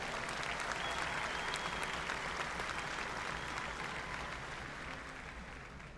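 A large audience applauds at a 2022 spring university commencement ceremony, steady massed clapping from a distance that fades slightly toward the end, with no talk.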